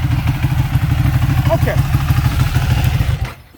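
A Ducati 1199R motorcycle with a Termignoni exhaust runs close and loud, a rapid, throbbing low pulse that holds steady before cutting away at the end, with a brief spoken word over it.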